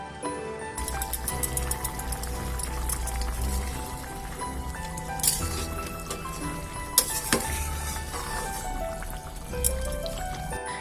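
Fish curry gravy bubbling steadily in a pan on a home gas stove, a continuous close simmering wash with a few soft clinks and taps scattered through it.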